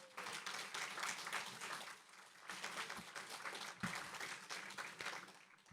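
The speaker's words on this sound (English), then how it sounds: "Let's give them all a round of applause." Audience at a city State of the City event breaks into sustained applause, a dense wash of many hands clapping that swells and fades over several seconds in a large hall.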